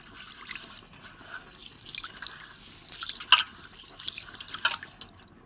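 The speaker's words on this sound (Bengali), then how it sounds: "আমি চালটা ধুয়ে নেব।" Gobindobhog rice is washed in water over a wood-fired stove, with soft drips, splashes and trickling swishes that come and go at close range and low volume.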